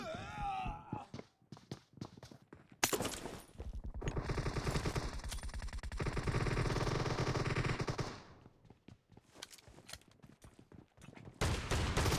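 Rapid bursts of gunfire from a PUBG Mobile team deathmatch, dense overlapping shots and clatter that start and stop in several rounds, loud and close, with brief quieter gaps between volleys.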